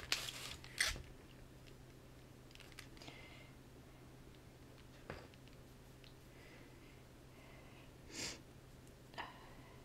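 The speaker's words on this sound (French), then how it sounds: "Désolée, hein, je renifle." A woman sniffs a few times, short faint nasal intakes spaced apart in a quiet room.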